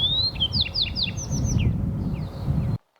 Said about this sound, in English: We have foxsparrow in here